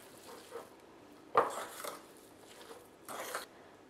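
Spoon clinking and scraping against a bowl while stirring fiadone mixture of brocciu and myrtle liqueur, a few distinct knocks and rattles in short bursts, fairly quiet with no talk.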